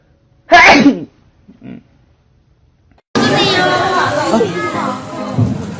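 A single sharp, loud sneeze bursts out near the start, then a few quiet sounds, followed by lively crowd chatter and people talking over each other.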